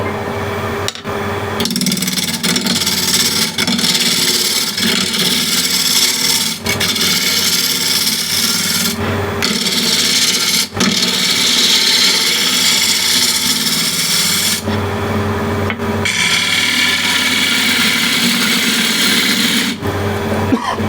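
Power tool grinding steadily across an Osage orange wood plate blank to flatten it, loud and close with a continuous abrasive rasp broken by a few brief pauses.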